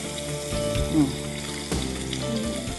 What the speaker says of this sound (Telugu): ఇప్పుడు ఉల్లిపాయలు వేగినట్టున్నాయండి